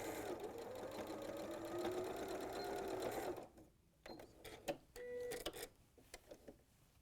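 Sewing machine stitching an apron seam, with a steady, fast mechanical whir that stops partway, followed by a few separate clicks and handling knocks nearby.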